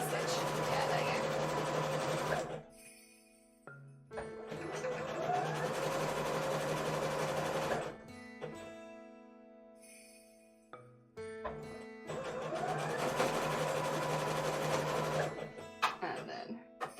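An electric sewing machine stitches fabric for a Eurovision outfit in three long whirring runs separated by pauses with faint background voices and light jingling.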